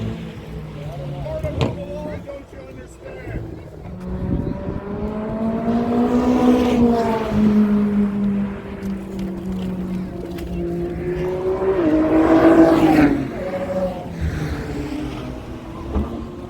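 A turbocharged car driven at full power at Drive Fest, its engine note climbing and falling in long revving sweeps that build twice to loud peaks, with crowd and voices around it.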